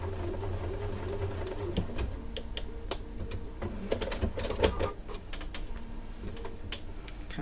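Sewing machine stitching a quilt seam for a Star Upon Stars quilt, with a soft mechanical whir and bursts of quick ticking stitches, quiet and close, some louder clicks midway.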